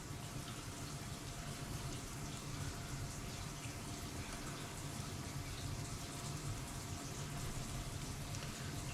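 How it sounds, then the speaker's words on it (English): Hot water running steadily from a kitchen tap, a continuous loud rushing hiss that stays even throughout with no talking over it. "Got my hot water running."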